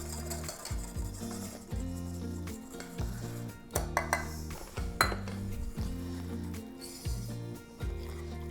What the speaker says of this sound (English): It almost gets to the point where it's too hard to stir